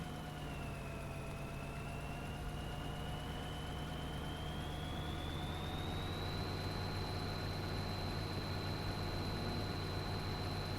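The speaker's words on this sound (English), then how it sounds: "It's a pretty good sized tractor for this trailer." A large tractor pulling a trailer in Farming Simulator 2013 gives a steady, continuous engine drone with a whine that rises slightly in pitch partway through, with no talking.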